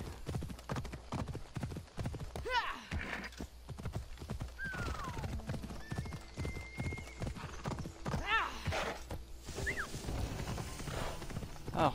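A horse's hooves clip-clop in a rapid galloping rhythm in Assassin's Creed Odyssey, joined by several whinnies and neighs, with someone talking over it at moderate level.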